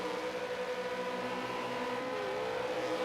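V8 Supercars doing burnouts in a racing video game, a continuous droning engine roar with a steady pitch and a slight wavering bend near the end, loud and unbroken throughout.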